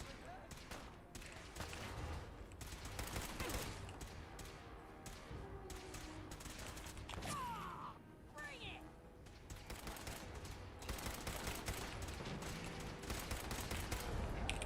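Rapid gunfire crackles through a Fallout 4 firefight, dense bursts of shots and thuds from companion MacCready continuing under occasional talk, fairly faint overall.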